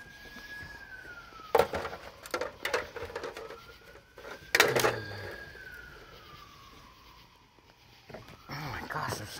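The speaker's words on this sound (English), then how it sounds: "there's so many sirens." A siren wails in the distance, its pitch slowly sliding up and down, while nearby clatter and bangs punctuate the scene.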